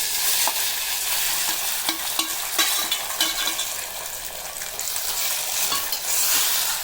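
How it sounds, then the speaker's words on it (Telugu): Raw cucumber chutney, pounded in a stone mortar, is stirred into hot tempering in a pan off the stove, giving a steady crackling sizzle with repeated scraping strokes of the spoon, close and continuous with no voices. "దీంట్లో మనం రోట్లో దంచుకున్నాం కదా దోసకాయ పచ్చిముక్కల పచ్చడి, ఇది వేసి కలుపుకుందాము."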